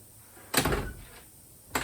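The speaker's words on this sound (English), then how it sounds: "But now you can see the door open right up." A 1961 Rambler car door with stiff, unlubricated hinges swings open with a loud broadband clunk and creak lasting about half a second, followed by a shorter thump near the end, with no talk.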